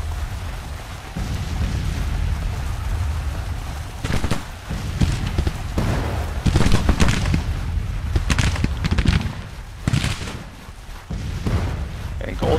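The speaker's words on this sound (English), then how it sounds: "really let that artillery unit have it" Artillery fire in the Civil War strategy game Grand Tactician, heard as a dense run of booming cannon shots and blasts over a constant battlefield rumble, with several loud bursts clustered near the middle.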